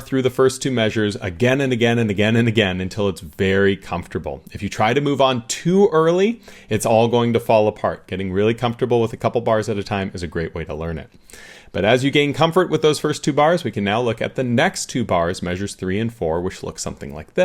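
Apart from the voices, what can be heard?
None of the usual background noises is heard.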